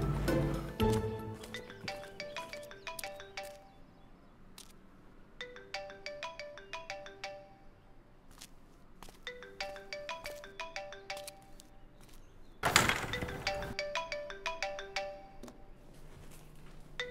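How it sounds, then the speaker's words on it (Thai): A mobile phone rings with an incoming call, its melodic electronic ringtone repeating in regular patterned phrases, moderately loud indoors with a brief louder thump partway through and no talk over it. "โทรเข้ามือถือ"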